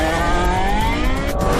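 A Porsche 918 Spyder supercar drives past loud and close, its engine tone rising steadily in a continuous roar with no talking.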